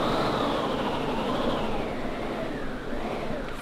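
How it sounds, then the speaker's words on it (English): A crew member cranks a theatre wind machine backstage at a production of The Mousetrap, giving a steady rushing whoosh that swells and eases in pitch, loud and continuous with no talking. "makes a wind noise."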